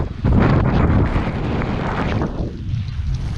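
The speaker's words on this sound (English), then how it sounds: "Pretty windy, as you can tell." Strong blizzard wind gusts roar across Brighton Beach in New York during a whiteout, buffeting the microphone with loud, rough, continuous noise.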